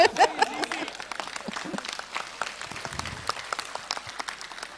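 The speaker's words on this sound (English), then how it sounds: "Claps." An audience at a national youth festival summit claps steadily, a dense patter of many hands in a large hall, with a brief voice at the start.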